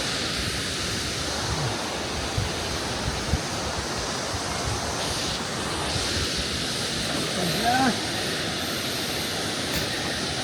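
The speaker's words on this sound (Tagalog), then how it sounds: "Ito yung falls na pupuntahan natin sa baba." Balangikog Falls in Baungon, Bukidnon pours with a steady broadband roar heard from a distance, constant and unbroken, with faint outdoor background sounds now and then.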